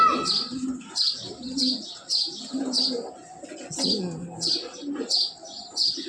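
A racer pigeon hen coos close by in a steady series of soft, rhythmic throaty calls, about one every half second, with chirpy overtones and no talk.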